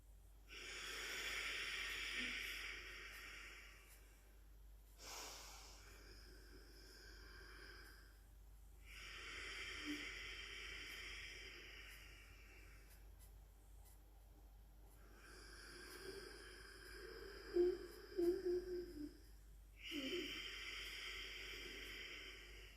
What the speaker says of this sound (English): let's take 10 breaths in Ujjayi Pranayama to start the practice